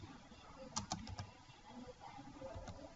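Fingers tap a computer keyboard in a quick burst of four or five light, close keystrokes, followed by quieter scattered taps against faint room noise.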